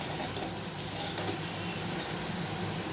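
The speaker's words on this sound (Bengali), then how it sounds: "একটু জল দিয়ে দিয়ে ভাজবো" A spice mix frying in a pan with a little water and light oil: continuous close sizzling and bubbling hiss, faint but even throughout, with occasional soft stirring ticks.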